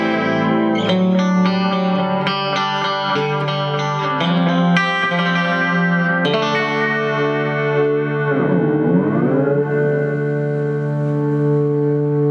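Electric guitar played through an echo box effects pedal, a run of picked notes and chords that ring out with repeating echoes and a thick, slightly distorted shimmer, loud and up close with no talking.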